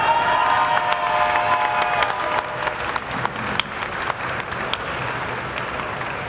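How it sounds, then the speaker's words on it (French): Audience at Japan Expo, a Paris anime and manga convention, applauding steadily for about six seconds, a dense wash of hand claps with a few distinct nearer claps and faint crowd voices mixed in. "Merci d'applaudir"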